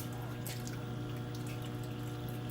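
Water flows continuously through the cooling loop of a 60 watt CO2 laser, a steady trickling rush with a low pump hum underneath, close and unbroken.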